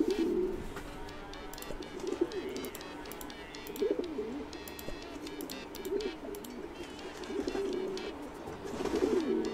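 Pigeons cooing continuously in the video game Hiveswap, soft throaty rolling coos repeating through a busy ambient background with no speech.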